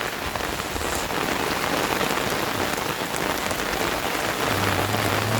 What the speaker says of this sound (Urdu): دیکھ لیں، بہت ہی خوبصورت نظارے بارش کے ہے۔